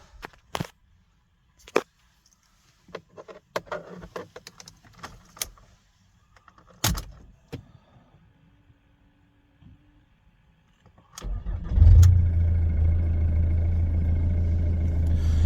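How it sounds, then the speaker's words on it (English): A key is drawn from a pocket with scattered jingles and clicks, then a Ford ST with an EGR blank fitted cranks and fires up at about eleven seconds, settling into a loud, steady idle that runs to the end. "I'll just get the key out of my pocket and we'll fire it up"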